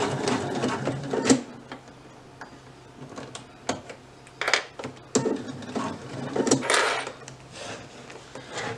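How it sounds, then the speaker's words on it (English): A sewing machine stitches a belt in repeated short runs. It pauses between bursts to pivot with the needle down, giving an uneven rhythm of close, clattering whirs. "as long as you have your machine set in a needle down position, you're able to pivot without losing your spot"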